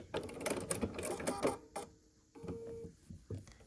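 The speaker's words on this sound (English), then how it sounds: "we're just going to sew" A sewing machine stitches a quilt block in short, close bursts of mechanical chatter, with pauses between runs.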